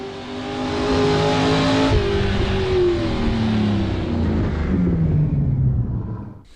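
A race car in a sim racing game at Loton Park hill climb accelerates hard to the finish, its loud, close engine climbing steadily in pitch through the gears with a brief dip at a gear change.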